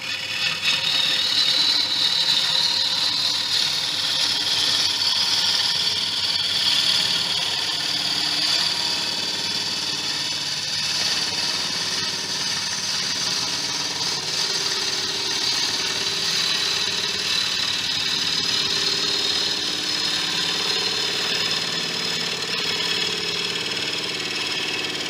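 A wood lathe turns a small peanut bowl during the finishing cut, giving a steady, continuous hum and hiss with a high whine from the tool on the spinning wood, loud and unbroken throughout with no talk.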